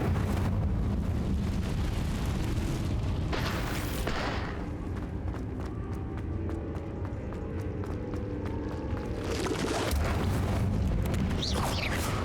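Incendio fire spell cast in the Hogwarts Legacy video game, a loud continuous roaring burst of flame and rumbling blasts that swell, ease off midway, then flare again near the end, with no talking over it.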